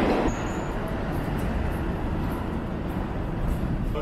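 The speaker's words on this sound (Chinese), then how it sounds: "现在我在的地方是美国纽约曼哈顿的唐人街附近的一个地铁站里" Inside the Canal Street subway station in Chinatown, Manhattan, New York, a dense, steady rumble of trains and station noise fills the space, loud and unbroken, with a brief high squeal at the start.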